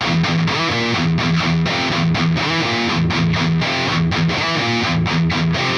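Heavy distorted electric guitar plays a busier variation of a riff, mixing tight palm-muted open E chugs with sliding and ringing notes in a loud, driving, repeating pattern and no voices.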